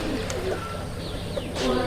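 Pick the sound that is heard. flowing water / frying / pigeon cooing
pigeon cooing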